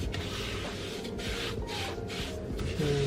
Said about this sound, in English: Move it a little bit more around because it's getting toasted from the heat of the pan.